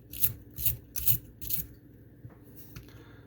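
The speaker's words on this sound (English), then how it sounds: "Make everything nice and hot, nice and fluid, and scrape." Hot, fluid fluxed metal is scraped clean before soldering in four rhythmic, rasping strokes, each about half a second apart, followed by a couple of fainter scrapes. Close and fairly quiet, with no talking.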